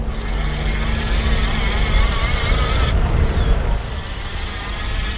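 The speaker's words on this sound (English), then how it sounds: "You can hear the motor." A Gocycle G2 e-bike rides through a busy parking lot, its electric motor giving a steady whirring hum under rolling road and wind noise, continuous and fairly loud, then easing slightly near the end.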